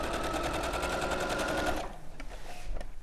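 Sewing machine running at a long stitch length of 5: a fast, steady mechanical chatter of loud close stitching that stops abruptly, followed by quieter clicks and handling noises.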